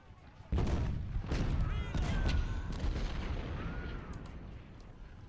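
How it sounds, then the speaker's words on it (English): Massed 24-pounder cannon fire in Ultimate General Civil War opens with a heavy boom, then rolling overlapping blasts and distant rumble, with whistling shells passing, loud and sustained for several seconds. "these 24-pounders I'm actually going to use to drive him out of that fortification"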